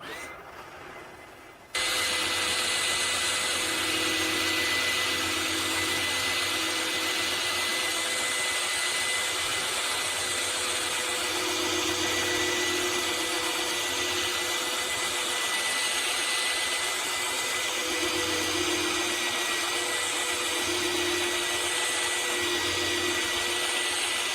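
A drill fitted with a polishing brush spins against car paint during paint correction, giving a loud, steady motor whine with a constant broadband hiss that runs continuously after a brief quiet start.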